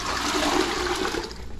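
About three quarters of a gallon of water is poured into a cooking pot for boiling crabs, a brief, loud, rushing splash that stays steady for a second or two.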